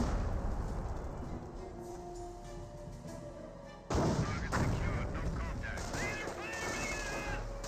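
Ranger squad gunfire in a Company of Heroes battle: dense, continuous war-game combat noise with rattling shots and a sharp, louder burst of fire midway, then sustained crackling fire through the rest.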